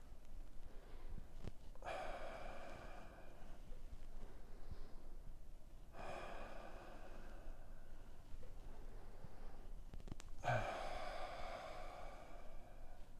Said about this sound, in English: breathing out, breathing in, breathing out, breathing in, breathing out